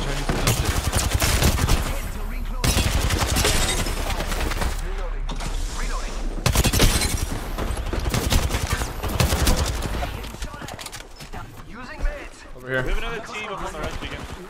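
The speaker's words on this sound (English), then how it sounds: "I think I'm getting shot in the back from a whole other team from cave." Apex Legends firefight with long rapid bursts of R-301 rifle fire, dense and loud, broken by brief gaps while players talk over the shooting.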